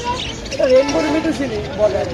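Budgerigars in cages at a crowded bird market chirp and twitter steadily in the background while people talk nearby.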